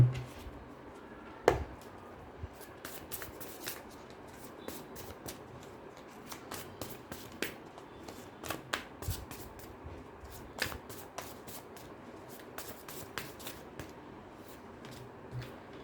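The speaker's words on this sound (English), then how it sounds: "I'll cut the deck for you and then we'll shuffle once more" Tarot cards are shuffled and handled quietly, with soft riffles and scattered light snaps and taps spread unevenly against a near-silent background.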